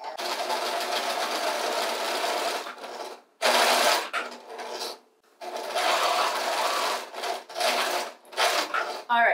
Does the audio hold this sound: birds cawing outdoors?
no